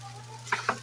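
Shrimp and bean sprout okoy fritters frying in a pan, with a steady low hum under two brief crackling bursts of sizzle close by, no talk.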